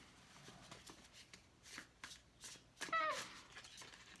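A tarot deck is shuffled by hand in quiet, close bursts of riffling card flutter, with a sharper, louder shuffle near the end.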